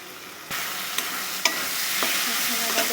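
Egg curry masala cooking in a pan, stirred steadily with a constant sizzle and a few sharp scrapes or taps of the spoon, close and fairly loud, no talking.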